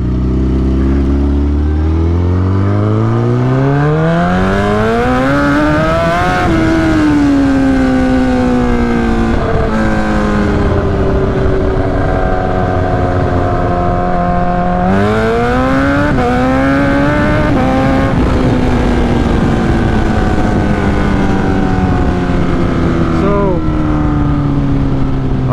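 A 2008 Suzuki GSX-R 1000 motorcycle with a straight pipe and no muffler, its engine loud and raw, revving up and down through repeated climbs in pitch, close and continuous throughout.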